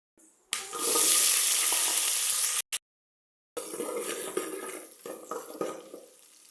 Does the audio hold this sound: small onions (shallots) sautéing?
yes